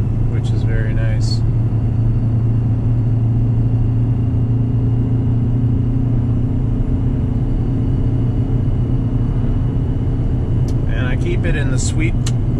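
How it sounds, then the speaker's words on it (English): Detroit diesel engine in a truck with a 5R110 transmission, running in fourth gear at steady revs: a constant, loud low drone with a brief higher whine near the start and end. "1600 to 2200 RPM is where the Detroit makes the most power, so that's where I leave it."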